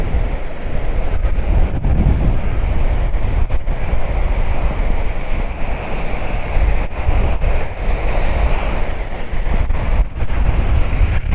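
A strong gale drives waves onto the Paphos seafront in Cyprus, a continuous loud roar of surf mixed with buffeting wind on the microphone.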